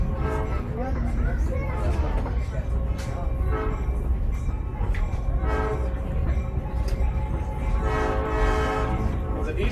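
A heritage excursion train at the Tennessee Valley Railroad Museum rolling along rails with a steady low rumble and rhythmic wheel clatter, its horn sounding repeatedly in long blasts, with voices talking underneath.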